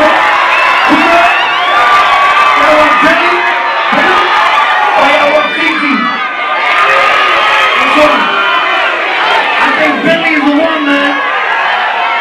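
Concert crowd at a show in Orlando, cheering, whooping and chanting loudly and continuously, with repeated rhythmic shouted calls throughout.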